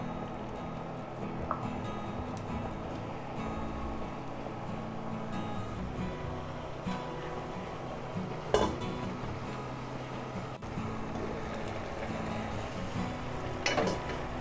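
Chicken is stirred into half-cooked biryani rice boiling in a pot, with soft bubbling and a few sharp spoon-on-pot clinks scattered through a quiet, steady background.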